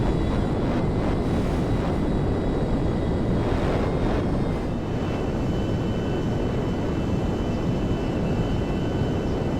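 A Dassault Rafale jet mod flies in GTA V with a loud, continuous roar of engine and rushing air that holds steady throughout, with no voices.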